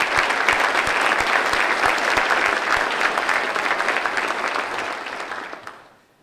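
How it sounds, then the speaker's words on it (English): A large audience applauds at the military promotion ceremony of Maj. Gen. Theodore C. Harrison III: a sustained, dense round of clapping that holds steady, then tapers and fades out near the end. "Please give us a round of applause for all the folks."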